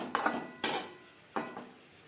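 A spoon stirs ginger paste, green chili paste and tomato into potatoes in a pot for a radish and rohu fish curry, making three distinct scraping clanks against the metal, close and clear.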